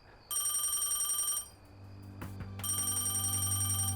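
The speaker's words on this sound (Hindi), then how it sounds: "सर वो एक कॉल आने वाली है आपके लिए।" An office telephone rings with an incoming call, two bursts of a bright electronic bell tone separated by a short gap, fairly quiet and with no voices.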